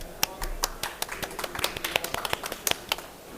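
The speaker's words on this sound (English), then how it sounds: "Please give him a round of applause" Light applause from a conference audience at a climate summit pavilion session, a patter of individual claps, fairly quiet and uneven, with no talking over it.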